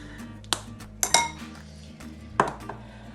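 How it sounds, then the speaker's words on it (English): Butternut squash being mixed into cookie dough in a bowl with ground cinnamon, heard as a few sharp, separate clinks of a utensil against the bowl over a quiet background. "mix that through, mix it well in"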